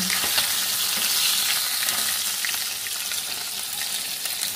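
Fish fry in a light layer of oil in a pan, giving a steady, dense sizzle with occasional pops and spatters. The sound is close and continuous throughout, with no voices.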